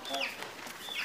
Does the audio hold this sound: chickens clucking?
yes